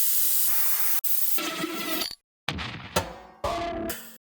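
Heavyocity Mosaic Leads sound-design attacks: a run of short, noisy synth hits with hissing, sprayed texture and metallic glints, separated by abrupt cuts to silence, heard alone and fairly loud.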